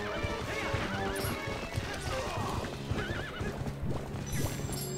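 A horse in the Wii U game Zelda Twilight Princess HD whinnies several times over rhythmic clip-clopping hooves, with in-game music and effects around it and a voice talking over the action.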